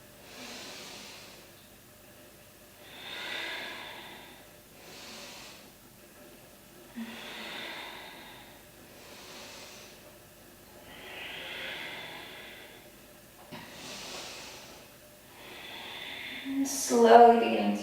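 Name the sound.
slow yoga breathing, inhaling and exhaling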